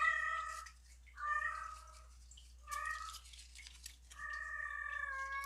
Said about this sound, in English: my cat's in heat, so they'll be meowing, looking for that male.